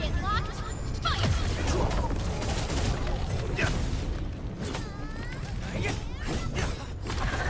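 Weapons open fire in the Arknights: Endfield video game, with repeated booming shots and impacts in a fast, dense volley, fairly faint overall, under voices calling out.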